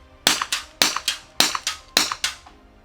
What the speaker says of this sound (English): I can still reload it and shoot another 4 rounds